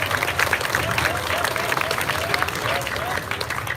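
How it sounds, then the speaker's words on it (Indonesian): An audience at a live Calonarang performance at Pura Dalem Padangsambian in Denpasar claps for young gamelan musicians, a sustained patter of applause filling the space, with a crowd murmuring beneath. "penabuh muda-muda tepuk tangan dulu untuk penabuh"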